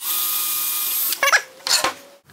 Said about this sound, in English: Drill right in the center of those 2 holes.